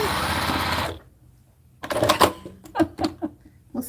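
A home sewing machine stitches a quilt block seam in a steady, loud whir that runs for about a second, stops, then gives way to faint handling and light clattering bursts close by.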